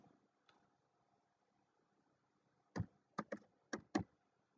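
A computer keyboard is tapped in a quiet room: five sharp, fairly loud key clicks in quick succession after a near-silent stretch, with no voices.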